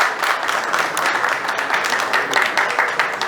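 Audience applause welcoming a guest onto a stage at a live show launch, a dense, steady wash of clapping that fills the room for several seconds with no speech over it.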